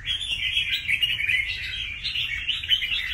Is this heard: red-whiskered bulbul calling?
yes